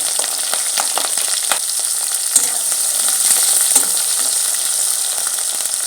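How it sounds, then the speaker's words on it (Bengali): Garlic, green chillies and sliced bitter gourd frying in hot oil in a pan, giving a loud, steady, close sizzle with occasional stirring scrapes and no voices. "তেলটা গরম হয়ে গেছে আমি দেব রসুন কাঁচা লঙ্কা আর দেব উচ্ছেগুলো"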